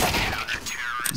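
Rapid gunfire bursts from Counter-Strike: Global Offensive, loud and close, a quick volley of shots packed into about a second.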